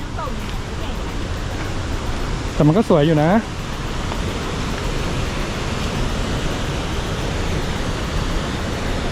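Strong rushing water of stream rapids in a Phitsanulok forest, a constant broad wash heard close, with a voice speaking briefly partway through.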